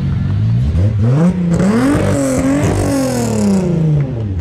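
A Fiat 147 engine revs up and down repeatedly through a loud, throaty exhaust, close by, with no talking.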